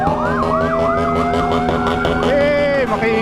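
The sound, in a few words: motorcycle fitted with a loud noisemaker horn at New Year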